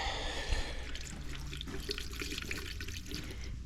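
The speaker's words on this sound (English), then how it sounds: "Drain that radiator out." Coolant drains from the radiator of a John Deere 355 into a bucket, a steady close trickling and dripping of liquid heard alone without talk.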